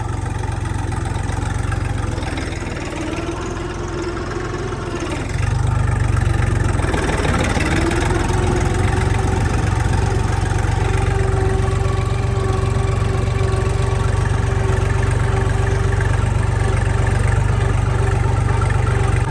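A Kentavr 244 mini tractor's engine runs steadily up close while the machine shifts into reverse and backs up, its idle rising to a louder, sustained drone with a faint whine.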